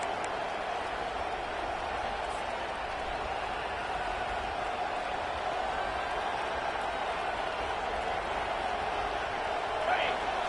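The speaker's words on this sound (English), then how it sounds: "This crowd, full throat, splitting the eardrums" A large football stadium crowd at a college game roars loudly and steadily as one dense, sustained wall of cheering.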